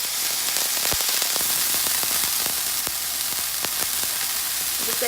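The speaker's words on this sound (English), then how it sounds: "I'm gonna just take the already seasoned chicken, and I'm gonna throw it in a hot pan" Seasoned chicken and garlic fry in a hot pan with a dense, steady sizzle and crackle, broken by occasional sharp pops and spatters.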